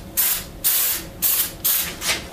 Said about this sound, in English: a little trick for getting rid of surface bubbles is spraying mold release on there